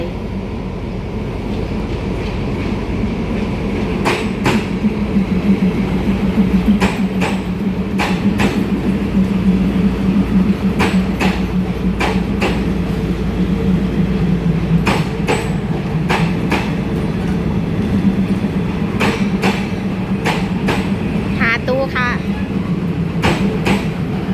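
Thai ordinary train 279 from Bangkok to the Ban Khlong Luek border crossing runs with a loud, steady rumble, sharp wheel clicks over rail joints and a brief squeal, while a voice speaks over it.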